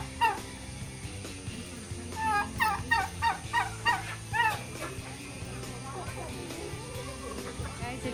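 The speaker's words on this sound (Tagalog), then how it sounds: "A turkey." A turkey gobbles in a quick rattling burst of repeated calls, with people talking nearby and a steady background hum.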